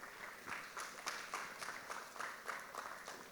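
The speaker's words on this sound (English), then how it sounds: "Give him another round of applause." An audience at an Australia Day citizenship ceremony in Lockyer Valley applauds, with a steady, fairly close round of clapping for a singer after the national anthem.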